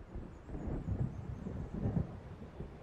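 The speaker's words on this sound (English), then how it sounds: "It seems there's a storm coming." An approaching thunderstorm in the video game Alan Wake, low distant rumbles of thunder rolling in soft waves over a faint windy hiss, quiet and with no talk.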